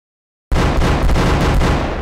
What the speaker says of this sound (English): that was a great explosion!